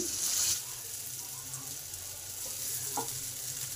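Potatoes frying in a pan for muri ghonto, a soft continuous sizzle with a few faint clinks of stirring, fairly quiet throughout and with no talk.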